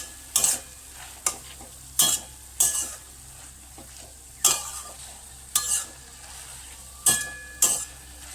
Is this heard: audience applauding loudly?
no